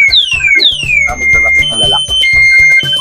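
A vehicle's anti-theft alarm goes off when the vehicle is pushed, blaring loud, repeating electronic chirps and sweeping tones close by, with brief pauses between bursts and no talk over it.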